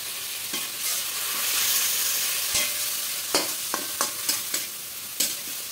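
Ground coriander, cumin, chilli and turmeric fry in a pan with a spice paste for cabbage curry, giving a continuous close sizzle broken by a series of sharp spoon scrapes and taps toward the end, with no speech.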